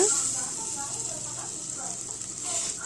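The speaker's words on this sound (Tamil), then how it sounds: "நல்லா போட்டு வதக்கிக்கணும்." Onions and tomatoes sauté in a pan with a steady, soft sizzle and hiss that runs throughout at an even level, with faint stirring under it.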